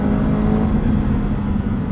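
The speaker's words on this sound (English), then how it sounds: "The revvy nature of this motor is really fun." Subaru BRZ four-cylinder engine, 2022 model, droning steadily at moderately high revs from inside the cabin, a constant loud hum with no talking.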